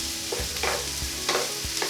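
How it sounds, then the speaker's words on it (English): Chunky mushrooms sauté in a pan for a vegan butternut squash nut roast, a steady close sizzle broken by a few quick scraping stirs, with no talking. "And just keep moving it around the pan."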